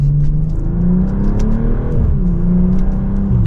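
A 2025 BMW M440i engine hums steadily from inside the cabin in sport mode, with pitch rising and dipping as paddle-shifted gears change, a continuous loud drone under light whir.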